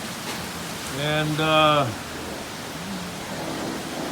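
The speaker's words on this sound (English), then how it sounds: "can't do much in it when it's raining like that" Heavy tropical downpour drums continuously during a power blackout, a loud, steady wash of rain with a voice briefly speaking over it near the middle.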